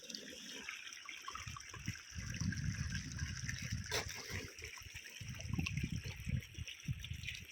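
Water runs steadily along a farm irrigation channel, a faint continuous trickle and gurgle heard at low level with soft rumbling pulses beneath.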